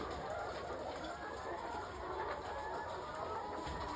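Chickens at about 18 weeks old, just starting to lay, on a poultry farm, making a dense, steady murmur of soft clucks and chatter throughout with no talking.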